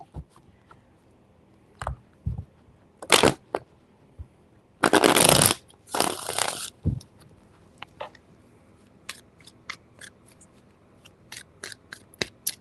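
Tarot cards are shuffled in a few bursts of riffling and shuffling, with soft taps and rustles between them, close by in a quiet room.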